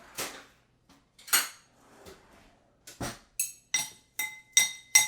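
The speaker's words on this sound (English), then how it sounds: "Let me get a spoon here." Metal spoon clinking against a dish while mixing a balsamic, Dijon mustard and garlic dressing, a series of sharp bright clinks with short gaps, growing quicker and more ringing toward the end, close and clear.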